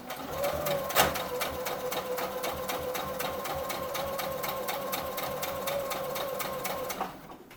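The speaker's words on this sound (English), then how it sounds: "we will actually sew the pleats" A sewing machine stitches pleats on a plush toy in a steady, rapid mechanical patter, near and continuous for about six seconds after a single sharp knock, then stops.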